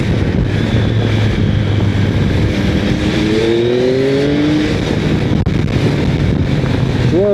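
A Yamaha Tracer 9 motorcycle rides along a road with a steady engine drone and heavy wind rush over the microphone, rising briefly as it revs, loud and continuous throughout.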